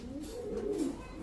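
Racing pigeons from a club loft giving a soft, brief coo, one low rolling call rising and falling, faint and close with no talk over it.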